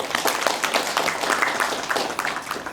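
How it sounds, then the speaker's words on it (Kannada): Audience applause at a Bengaluru community awards ceremony: dense, steady clapping from a crowd, sustained at an even level throughout with no break. "ಎಲ್ಲರೂ ಒಂದು ಚಪ್ಪಾಳೆ"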